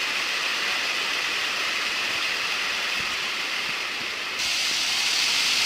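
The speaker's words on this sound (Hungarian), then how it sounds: "itt az út alatt is egy hatalmas habzó vízesés van" A large foaming waterfall at Plitvice Lakes in Croatia roars beneath a path, a loud, constant broadband rush of churning water with no pauses.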